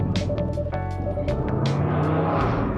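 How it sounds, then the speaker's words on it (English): A car drives past on a residential street outside, a broad steady roar with a whoosh rising and falling over about three seconds, with no voices. "I think it's my microphone picked up a car driving past my street"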